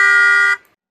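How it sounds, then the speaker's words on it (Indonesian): A single loud, steady car horn blast holds for about half a second and then cuts off abruptly, leaving silence. "Nah, itu tadi bunyi klakson mobil ya lagi."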